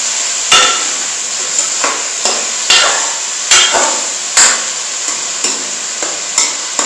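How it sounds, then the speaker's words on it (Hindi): Chicken pieces fry in a hot karahi for Peshawari charsi karahi, a steady sizzle running throughout, broken by about ten sharp scraping stirs against the pan, fairly loud and close with no talking. "इसको हम अच्छे से फ्राई करेंगे।"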